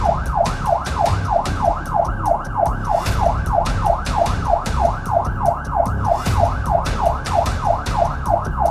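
A police car siren wails in a fast, continuous up-and-down cycle, loud and close, with a rumbling engine and road noise beneath it.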